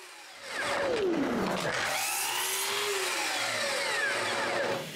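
A power drill whines steadily, its pitch rising and falling as it bores screw holes into wood, loud and close with no talking.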